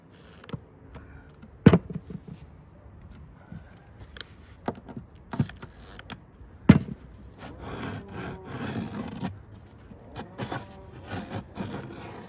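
Pine board being scratched to cut a groove by hand, giving rough irregular rasping strokes with a few sharp knocks, growing denser and busier toward the end, close and moderately loud with no talking.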